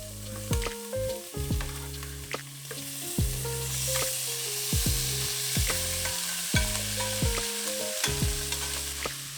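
Burrito filling fries in a pan and is stirred, with a steady sizzle under repeated scraping and clinking strokes of a spoon against the pan. No one speaks.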